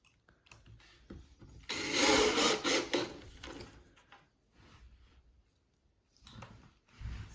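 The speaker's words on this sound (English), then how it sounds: "And just install the screws." Screws are driven into the wooden shelf of a farmhouse-style shoe bench, with one loud grinding, whirring burst lasting a couple of seconds, then quieter brief bursts and light handling noises nearby.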